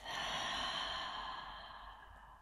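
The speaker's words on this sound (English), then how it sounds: "Another deep breath in. Hold. And exhale through your mouth." One long, deep exhale through the mouth, very close and soft, sighing out and slowly fading over about two seconds in a quiet relaxation setting.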